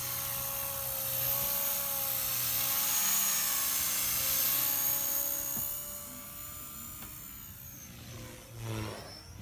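A Blade Fusion 180 RC helicopter flies outdoors near a boat, its rotors giving a steady high whine with a faint hum underneath. The sound drifts as it passes and fades later in the clip.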